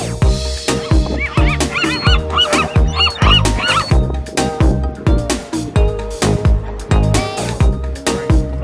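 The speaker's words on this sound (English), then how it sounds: "you get really close to the seagulls because they're right here" Seagulls call continuously on a foggy fishing coast, a loud, close flock of raucous honking cries repeating in a steady, overlapping rhythm with no talk.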